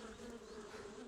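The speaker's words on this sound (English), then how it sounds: "Can we shoot the bees?" Bees buzzing in the survival game 7 Days to Die, a continuous droning hum, faint and steady with a slight wavering pitch.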